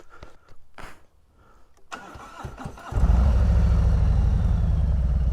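A Harley-Davidson Road King Special motorcycle is started: a few quiet clicks and mechanical rattles, then the starter catches and the V-twin fires into a loud, steady, loping idle close by.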